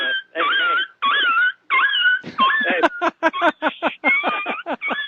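A recently spayed female dog whimpers and whines in a series of high, wavering cries, starting in drawn-out bursts and breaking into quicker yips with a low growl mixed in, close and fairly loud.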